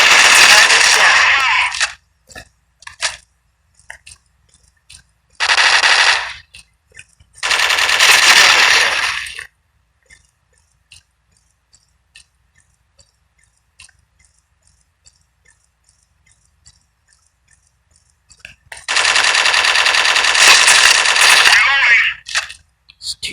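Bursts of automatic gunfire from a weapon with heavy recoil in the online shooter game Strike Team Online, loud sustained volleys separated by silence and a few isolated sharp shots.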